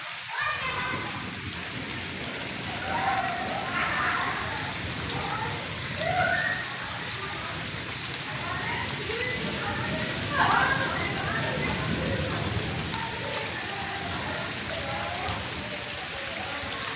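Heavy rain falls steadily in Chanu Chak village in Azad Kashmir, a dense even hiss of drops striking surfaces that lasts throughout, with faint voices now and then beneath it.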